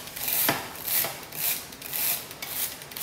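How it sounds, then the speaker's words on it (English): A brush scrubs degreaser-coated bike cassette sprockets in rhythmic back-and-forth strokes, about six bristly rasps evenly spaced, close and fairly quiet with no talk. "we can just work the brush around the sprockets."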